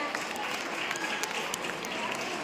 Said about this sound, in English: Children, you can give a big round of applause.